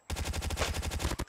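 A rapid burst of automatic gunfire from the video game Call of Duty Mobile, with about a dozen evenly spaced loud shots rattling in one continuous volley that cuts off abruptly.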